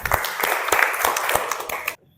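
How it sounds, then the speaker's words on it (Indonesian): A classroom group gives a short burst of applause, a couple of seconds of fairly loud, dense clapping that stops abruptly. "Kita kasih tepuk tangan."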